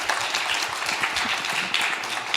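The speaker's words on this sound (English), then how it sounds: "please join me in an applause for this great panel" Warm audience applause for a conference panel, a dense even patter of many hands clapping at close range for a couple of seconds.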